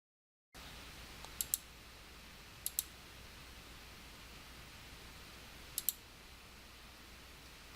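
A computer mouse clicks while a graph is formatted in Excel, three faint double clicks spread out over a steady low hiss, with no voice.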